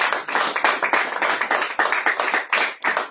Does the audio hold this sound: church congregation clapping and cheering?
yes